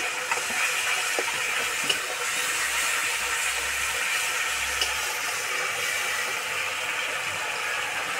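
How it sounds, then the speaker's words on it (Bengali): Ginger garlic paste sizzling in a hot pan while egg curry with peas is cooked, heard as a continuous, fairly soft hiss that holds steady for several seconds with no one speaking. "এবার দেবো আদা রসুন বাটা"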